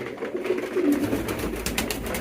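Soft, low cooing of exhibition pigeons, close and continuous, with a little rustling and background noise.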